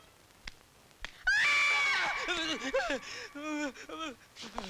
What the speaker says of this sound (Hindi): वो हमारी घंटी की आवाज है,